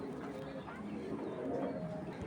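A pair of Johnson racing pigeons, a male and a female, coo softly and faintly close by, with low murmured voices under them.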